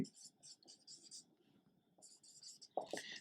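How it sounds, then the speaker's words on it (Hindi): Chalk or marker strokes scratch across a board in a chemistry lesson on molecularity and reaction order, short bursts in quick succession with a pause and a louder tap near the end, close but faint. "तो यहां पे इस पॉइंट को लिखेंगे"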